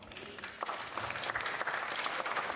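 Applause from teachers at an international handball-in-school conference, a steady dense patter of many hands clapping at moderate distance throughout, with faint crowd murmur beneath.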